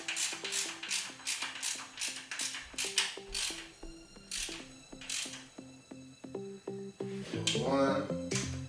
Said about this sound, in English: Let's get this valve cover tightened.